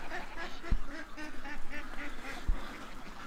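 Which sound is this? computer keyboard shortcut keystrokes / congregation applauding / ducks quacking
ducks quacking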